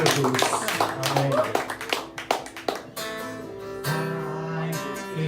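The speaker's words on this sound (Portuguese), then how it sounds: "Todos uma salva de palmas para ela em nome de Jesus." A church congregation claps together in a quick, uneven burst of applause for about three seconds, then gives way to a voice over sustained music.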